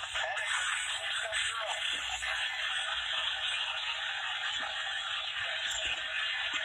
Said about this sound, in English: why do you hear all this static?